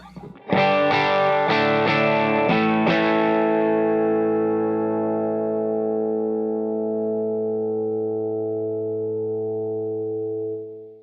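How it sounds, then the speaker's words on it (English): An electric guitar played through a compressor pedal picks a quick run of notes into a ringing chord that holds at an even level for several seconds before cutting off, with no talking. "that just really sustained a lot longer than the time before where I didn't have the compressor on"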